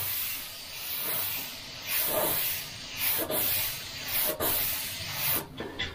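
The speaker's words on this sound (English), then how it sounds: "Now, the Richpen is clogging up." A Richpen detail airbrush clogging up and struggling to spray paint, its close hiss surging and sputtering unevenly in several bursts, with brief dropouts between pushes.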